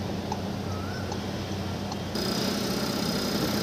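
A Skoda Slavia's 1.5-litre TSI engine runs with a smooth, steady hum. The tone shifts partway through to a brighter, slightly louder whir, and a few faint clicks sound near the car.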